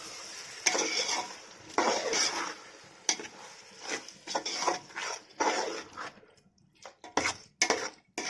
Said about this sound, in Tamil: இப்போ நல்லா கிண்டி விட்டுடுவோம்